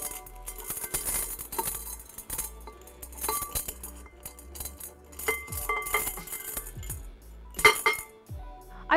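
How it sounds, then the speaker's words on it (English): Stones and pebbles are set one by one around the edge of a glass terrarium, giving scattered close clinks and taps of rock against glass with quiet pauses between them. "So I'm going to put my stones around the outer edge."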